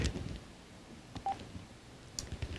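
A single short telephone dialing tone connecting a caller to a talk radio show, heard faintly in an otherwise quiet moment with a few soft clicks.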